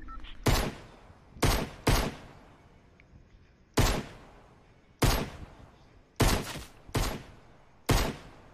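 Single pistol shots from a video game, seven or eight sharp loud cracks spaced irregularly about a second apart, each with a short decaying tail.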